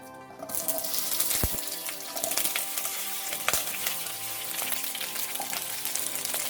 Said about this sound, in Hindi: ऑयल अच्छे से गरम होने के बाद हम इसमें भिंडी को डाल देंगे